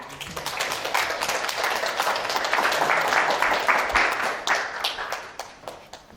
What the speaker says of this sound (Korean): 역시나 뜨거운 박수로 모셔보도록 하겠습니다.